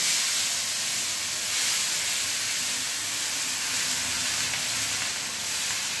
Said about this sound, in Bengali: এবার আমি ফোড়নের পর কড়াইতে দিয়ে দিচ্ছি পেঁয়াজ বাটা